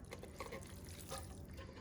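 A spaghetti casserole mixture pours into a baking pan, giving a faint soft wet glugging and trickling sound that runs steadily for a couple of seconds.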